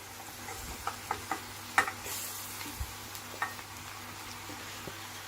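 Chopped vegetables sizzle in a pot with pumpkin for a creamy soup, under a low, steady frying hiss punctuated by several light spoon taps and stirring knocks, with no talking.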